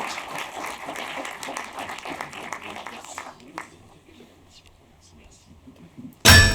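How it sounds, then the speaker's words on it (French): Scattered audience applause at a film premiere, moderately loud clapping that fades after a few seconds into near quiet, followed by a sudden loud burst at the very end. "vous pouvez encore applaudir nos invités ce soir"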